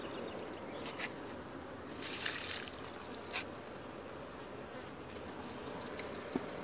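Honey bees from a weak colony hum around their hive in a faint, continuous buzz, with a few closer, louder passes drifting in and out.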